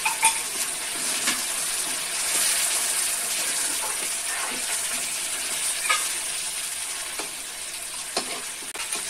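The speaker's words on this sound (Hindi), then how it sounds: "डाल के फ्राई करेंगे" A spice paste for matar paneer fries in a pan with a steady, close sizzling hiss and occasional small pops and stirring scrapes.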